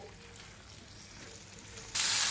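Okra and spices hit a pan over a high flame, and a sudden loud sizzle bursts in near the end. Before it there is only a quiet hiss with a faint clink.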